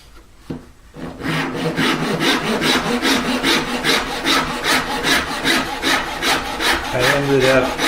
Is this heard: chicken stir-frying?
no